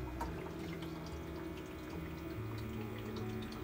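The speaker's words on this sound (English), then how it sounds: "that is a steady stream of water coming out" Water runs in a steady, continuous stream from a pump outlet into a 55-gallon drum filter barrel, a close, even splashing flow with no voices.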